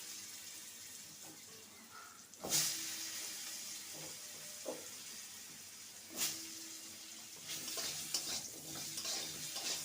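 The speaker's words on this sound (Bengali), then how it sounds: "লবণ হলুদ দিয়ে আমি আলুটাকে ছেড়ে দেবো" Potatoes frying in a pan with salt and turmeric, a low sizzle broken by a few sharp clatters and scrapes of a utensil, with a faint watery rush late on.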